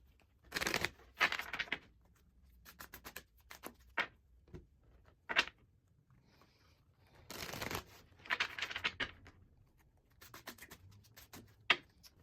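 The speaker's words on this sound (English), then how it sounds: "let's get these cards shuffled up so we can see what our guidance is." Close, intermittent bursts of oracle cards being shuffled and riffled, separated by quiet pauses, with small taps and slides between bursts.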